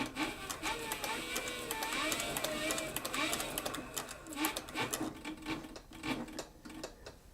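A Cowboy CB4500 leather sewing machine runs steadily, stitching through leather with a fast mechanical clatter and whir up close, slowing and pausing briefly near the end.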